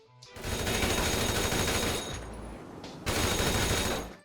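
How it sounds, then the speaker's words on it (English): Rapid automatic gunfire in a GTA video game striking a payphone, two long loud bursts of fire separated by a short pause, with metallic impact effects layered over the shots. "Every shot to the payphone is accompanied by distinct sound effects."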